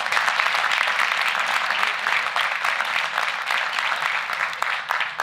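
An audience at a fall sports awards dinner claps steadily throughout, a dense, even wash of applause from a roomful of people without a break.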